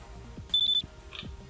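A single short, high electronic beep from the shop anti-theft alarm in the video game King of Retail, sounding once, clear and fairly quiet, with no talking.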